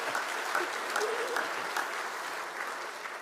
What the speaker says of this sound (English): A round of applause already.